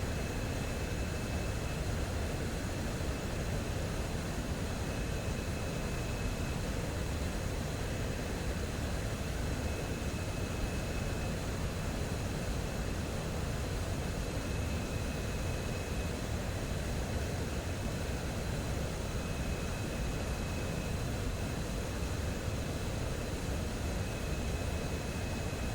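Steady broadband roar of an F-15 fighter's jet engines at idle power in a flight simulator, a constant whine and rumble holding evenly throughout with no talk over it.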